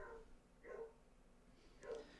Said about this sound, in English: Let me go check on why the dogs are barking.